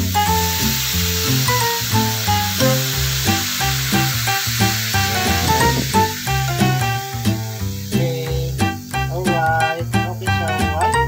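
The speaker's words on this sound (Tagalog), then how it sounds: "lagyan na natin yung pangalawang gata" Vegetables sizzle and fry steadily in a pan of coconut milk stew as a second portion of coconut milk is poured in. Loud background music with a steady beat plays over the sizzle throughout.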